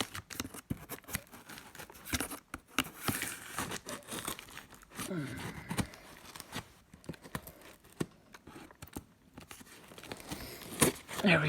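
Packing tape on a cardboard box being cut and torn, with irregular crinkling, ripping and scratching bursts close by and quiet, in short uneven strokes with pauses.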